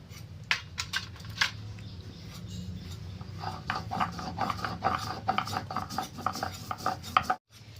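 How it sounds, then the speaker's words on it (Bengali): Poppy seeds being ground on a shil grinding stone, a run of gritty scraping strokes and small clacks of stone on stone in a steady back-and-forth rhythm, close and fairly quiet, ending with a brief silence. "আমি প্রথমে অল্প পরিমাণ পোস্ত বেটে নেব"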